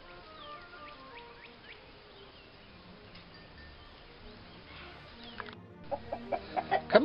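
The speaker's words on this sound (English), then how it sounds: "Come on, chicken." Chickens on a farm on a quiet morning, with faint scattered clucks over low outdoor ambience and a buzz of insects, building into a run of louder, closer clucks near the end.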